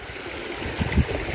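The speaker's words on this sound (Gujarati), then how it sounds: "ત્રણ નદીનો સંગમ થાય છે" River water flows at the confluence of three rivers at the source of the Shetrunji in Gir, a steady, fairly close rushing murmur with a couple of soft gurgles.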